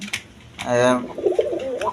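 Pigeons coo in a pigeon seller's loft, a clear rolling coo in the middle followed by softer throaty calls, close by with someone talking over parts of it.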